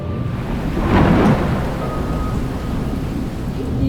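Thunder rumbles nearby over steady heavy rain in Bhutan, with a brief louder crack early on as lightning strikes close by, and a constant wash of rainfall throughout.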